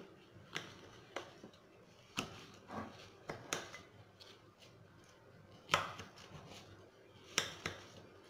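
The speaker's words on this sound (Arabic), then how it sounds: "نقسمها الى نصفين" A knife cuts through fresh figs on a cutting board for fig jam, giving a series of soft, irregular taps and thuds as each fruit is split in half, close by and quiet, with no talking.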